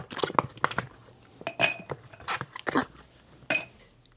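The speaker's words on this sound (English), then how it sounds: "So I'm going to put a couple of ice cubes in here." Ice cubes are dropped into a chilled cocktail glass while a martini is prepared, giving a series of sharp glassy clinks and rattles in separate bursts, close and fairly loud.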